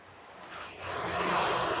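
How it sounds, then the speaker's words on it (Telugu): Birds chirp in a rooftop terrace garden in quick, busy bursts, growing louder and denser toward the end, with no one talking. "ఆ పిట్టల చప్పుడు"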